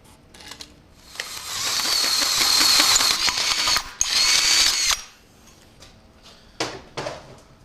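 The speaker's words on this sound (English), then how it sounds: "why I usually drill holes out at slower speeds" Power drill boring holes at slow speed into metal for a tube-chassis lower core support, a steady grinding whine building over about four seconds, a brief break, a second shorter burst, then scattered clicks and handling noises.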